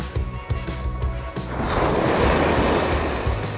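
Surf waves breaking on a beach along Ise Bay in summer, a steady wash of white noise that swells louder midway and stays broad and close, with wind rumbling at the microphone.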